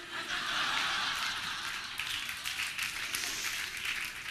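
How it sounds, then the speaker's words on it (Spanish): Steady audience applause fills the whole stretch, a dense continuous patter of many hands at even loudness with no voices over it. "Encima aplauden."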